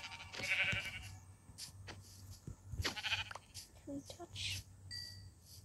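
Sheep in the video game Minecraft give several short bleats scattered among quiet game sounds, while a player talks.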